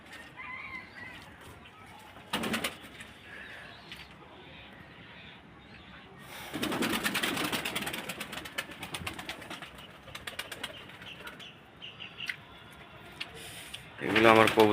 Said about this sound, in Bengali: এগুলো আমার কবুতর।